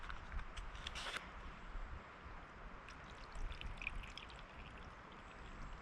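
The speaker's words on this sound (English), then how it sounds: "and I'm going to put some water in." Water is poured into a camping kettle in a quiet, steady trickling stream outdoors, with a slightly louder splash near the start.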